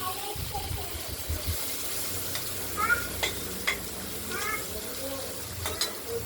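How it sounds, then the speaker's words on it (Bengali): Salted prawns frying in a wok, a steady close sizzle broken by a few sharp scrapes and clicks of stirring, with no talk over it. "চিংড়ি মাছ নুন দিয়ে মেখে থেকেছি, ভাজবো।"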